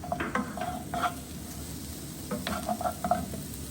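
Onion fries in a tablespoon of coconut oil in a pan, with a soft sizzle under several sharp, close clinks and scrapes as it is stirred. No one speaks.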